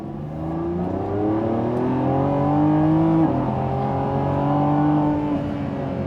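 A 1,001-horsepower Lamborghini Revuelto drives along a twisty road in sport mode with automatic shifting, its engine note climbing and shifting smoothly, loud and continuous from the cabin.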